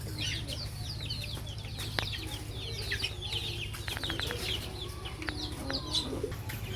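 Domestic chickens with a dominant rooster clucking and squawking at feeding time, a busy overlapping stream of short calls close by over a low steady hum, with no talk.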